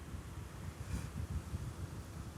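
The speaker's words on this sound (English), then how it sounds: "It's pretty windy." Wind gusting across open moorland on Dartmoor, a steady low rumbling buffet against the microphone with small surges, faint and continuous, no voices.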